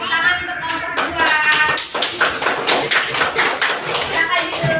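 Pupils in a primary school classroom in Ambon clap for a group of classmates, a dense, steady patter of many hands close by, with voices talking over it.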